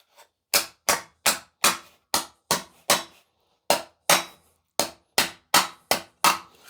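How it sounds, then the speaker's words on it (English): A hammer strikes a metal head on the edge of an anvil: about a dozen loud, sharp, ringing blows close by in a steady rhythm, with one brief pause midway and no talk. "I start hitting them down right on the edge of the anvil."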